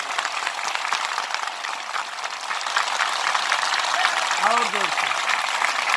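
A large outdoor political rally crowd in Ghazipur claps in welcome, a dense, continuous wash of applause holding steady and fairly loud throughout, with faint voices mixed in.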